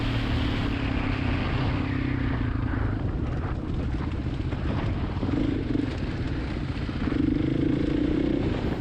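A dual sport dirt bike rides through a desert wash under a highway bridge in southeast Nevada near Mesquite. Its engine drones steadily and continuously with wind rush, moderately loud and unbroken, and there is no talking.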